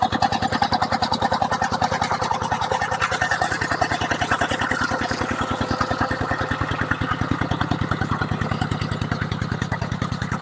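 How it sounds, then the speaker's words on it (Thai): An engine-driven water pump running at a strawberry farm, a loud, steady rapid chugging throb close by that continues without a break. "เสียงจะดังหน่อยนะเขากำลังสูบน้ำอยู่"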